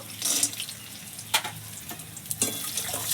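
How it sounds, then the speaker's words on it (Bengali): Small lentil dumplings (bori) frying in oil in a pan while cooking a snakehead fish head and bottle gourd dish, giving a soft, quiet sizzle with a few brief crackling bursts. "এইখানে আমি বড়িটা ভেজে নেবো ডালের বড়িটা ভেজে নেব"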